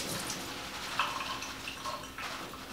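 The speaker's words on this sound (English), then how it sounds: "maybe just give it a nice little rinse here" Mirror lettuce is rinsed under running water, a soft, fairly faint steady trickle with a few scattered drips and splashes close by.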